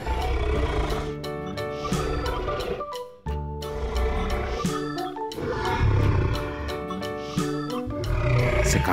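Deep, rumbling T-Rex roars from a toy repeat loudly one after another, rough and drawn out, with a brief gap partway through.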